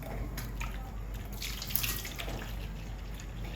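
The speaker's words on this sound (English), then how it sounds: "So I'm just going to add in water to it." Water pours steadily into a stovetop or electric kettle being cleared of limescale, a continuous close splashing stream that runs unbroken throughout.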